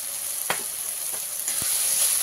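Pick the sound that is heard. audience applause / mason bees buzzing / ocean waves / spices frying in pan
spices frying in pan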